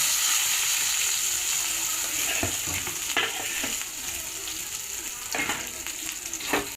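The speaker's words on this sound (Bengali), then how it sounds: "এই যে বেগুনটা আমি ভেজে ফেলতে দিয়ে দেবো" Eggplant fries in a pan for a light fish curry, giving a continuous loud sizzle with a few sharp spatula knocks and scrapes, and no talking.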